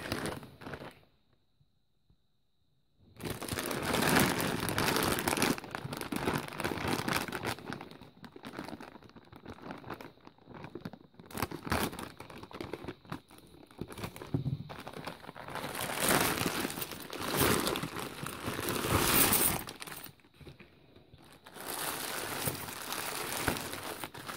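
A plastic bag of 50p coins is opened and handled up close: bursts of crinkling and rustling plastic with faint coin shuffling, coming in uneven waves after a short silent start, moderately quiet and with no talk.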